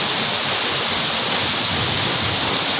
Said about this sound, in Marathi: हे बघ कसं पाऊस पडतो आहे बघू शकताय तुम्ही